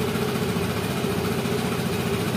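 A Vespa scooter engine idles steadily at around 1700 rpm, a constant close-up low drone with an even, unbroken rumble throughout and no talk.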